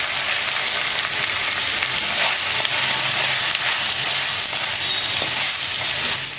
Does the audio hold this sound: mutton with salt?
yes